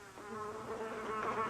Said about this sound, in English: Wait a minute, you guys hear that buzzing?